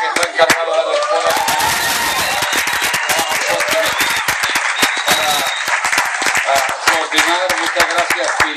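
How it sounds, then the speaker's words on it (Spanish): Inside a church, the congregation breaks into loud applause with cheering and shouts, children's voices among them, a dense crowd roar of clapping sustained throughout and heard up close. "Y de hecho un aplauso para la pastora que está encargada de la escuela."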